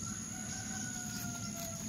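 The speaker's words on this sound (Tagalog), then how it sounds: "Kapitbahay na manok." A chicken clucks faintly in the background amid a steady high electronic whine and low rumbling noise.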